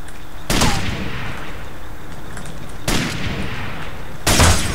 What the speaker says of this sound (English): Shoot. Start shooting.